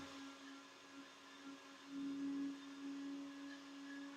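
A blender grinding peanut butter in the background, a faint steady whir with a constant motor tone that swells slightly midway, heard alone.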